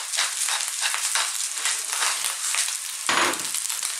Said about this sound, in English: we're actually going to stir the rice. Keep it moving all the time now. High heat all the way.